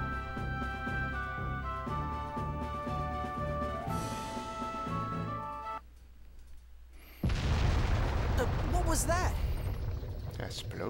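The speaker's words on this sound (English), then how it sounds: "Explosion is what it was." In the video game Tales of the Abyss, music plays, drops to a hush, then a loud booming explosion erupts and its rumbling roar carries on to the end with scattered high squeals.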